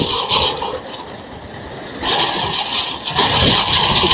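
An Okaya Faast F4 electric scooter accelerating in mode 2 outdoors, a steady loud whirring drive noise mixed with wind rush, swelling slightly in the second half.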